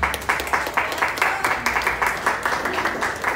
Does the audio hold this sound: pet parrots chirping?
no